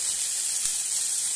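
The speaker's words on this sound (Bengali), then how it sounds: "এখানে কড়াইতে আলু ঢেলে দিলাম" Potatoes fry in a hot wok (kadai), a steady, loud, bright sizzling hiss with no talk.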